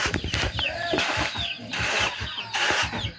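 Chickens cluck and chatter at a rural Thai gathering, short repeated calls rising over a steady crowd murmur and background noise, close and fairly loud.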